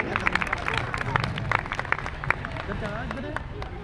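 A crowd at a Republic Day celebration claps together in quick, dense bursts, with some background chatter mixed into the applause.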